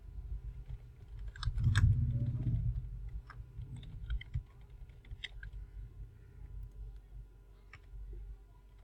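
Keys tap sparsely on a computer keyboard while information is entered during a Joomla install on Windows 10 with XAMPP, with scattered clicks over a quiet room hum and no talking.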